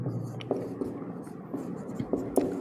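Chalk or marker taps and scratches on a board during a Class 12 inverse trigonometry lesson, short strokes and tapping in an irregular rhythm, close and moderately loud.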